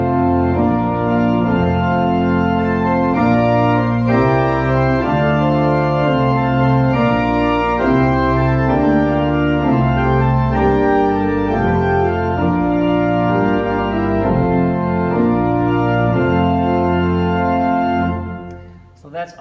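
A keyboard plays the hymn Spirit, Open My Heart from melody and chord symbols, a steady, full, continuous chordal performance without talking that fades at the end.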